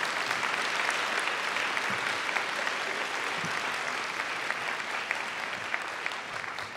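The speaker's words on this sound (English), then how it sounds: "Thank you for starting the applause." An audience claps after an invited lecture at a child development research society address, dense even applause sustained for several seconds at moderate distance, with no speech over it.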